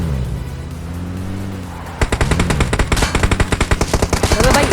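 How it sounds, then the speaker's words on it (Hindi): Gunfire from an enemy player in a shooter game, a rapid burst of evenly spaced shots that begins halfway through, loud and near, following a steady vehicle engine drone. "भाई एक बंदा कर देता है फायर"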